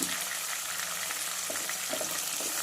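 Chopped tomatoes and green chillies sauté with onions in a pan for a Tamil chicken kuzhambu, giving a dense, continuous close sizzle with soft stirring scrapes.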